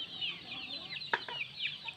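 Soft, close clucking of Bule Sunda chickens over a faint outdoor background, with a few short louder clucks midway.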